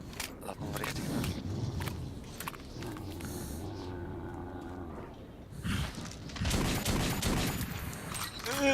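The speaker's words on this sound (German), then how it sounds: "3 Schüsse kann man schnell, die anderen 2 muss er irgendwie wieder nachladen." Gunfire from the first-person shooter game Metro 2033, a few sharp shots with clattering and reloading noises over a dense, noisy game soundscape.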